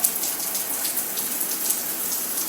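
Shower water runs steadily in a bathroom, a dense even spray hissing and splashing without pause, close and continuous.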